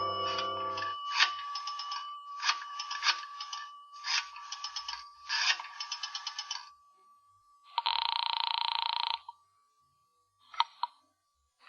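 A vintage telephone rings in a 1940s-style radio suspense drama, a fairly loud bell sounding in four repeated bursts, then one steady longer ring and two short final taps against a quiet background.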